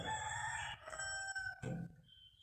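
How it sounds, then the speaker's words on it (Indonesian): A rooster crows at dawn, one long drawn-out cock-a-doodle-doo that rings out clearly from fairly close by before it tapers off. "Itu ayam berkokok ya, mulai memecah subuh."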